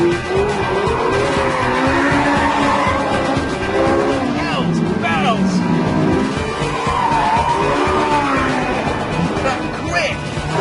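Porsche 918 Spyder hybrid supercar cornering hard on a racetrack, engine note rising and falling with repeated tyre squeals through the bends, loud and close, with a voice talking over it.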